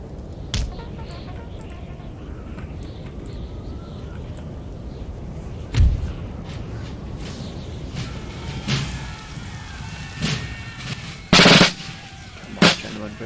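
Artillery cannon fire in a Napoleon: Total War battle at Innsbruck, heard as scattered booming shots over a steady battlefield din, with a couple of louder, sharper blasts toward the end.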